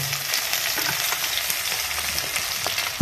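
Onions fry in oil for a chicken curry, giving a steady, dense crackling sizzle close by, with no pauses and no voices.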